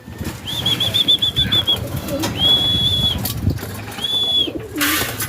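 Pigeons flap their wings in bursts close by, with brief whistling wing tones and a steady background rumble.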